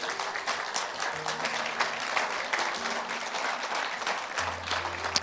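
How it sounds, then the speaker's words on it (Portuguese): Congregation applauding in a church, a steady dense wash of clapping from many hands with a low organ or keyboard drone sustained beneath, mid-distance and even throughout. "Dê um aplauso bem forte ao Senhor"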